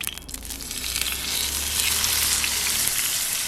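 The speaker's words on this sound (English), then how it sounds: "You can just hear that sizzle." Steady oily sizzle of steak frying over a wood fire's coal bed outdoors, building slightly and holding loud and close throughout, with no talking.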